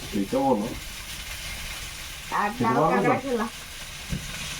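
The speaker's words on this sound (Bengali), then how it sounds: "ভেজে এখন উঠিয়ে নেবো" Chicken frying in a pan with a steady sizzle throughout, while a person speaks over it in two short bursts.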